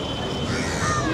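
Ravens cawing in a busy Kolkata street in West Bengal, several harsh calls rising over a dense wash of traffic and city noise.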